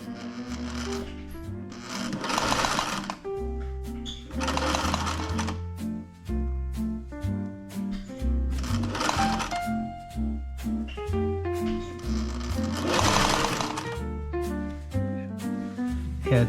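A sewing machine stitching fabric for a solo winter camping tent runs in repeated bursts of rapid, loud stitching separated by short pauses, with no talk.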